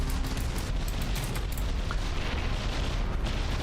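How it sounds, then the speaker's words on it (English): Explosions from a naval battle in the game From the Depths: a dense, continuous rumble of booms and blasts with brief sharper cracks layered throughout, loud and sustained with no clear gaps. "Bam! There we got some explosions."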